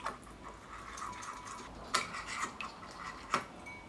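Spoon clinks and scrapes in a small bowl while stirring a dressing of chili powder, jalapeno salt and ground cumin, soft and close with a few brighter taps standing out.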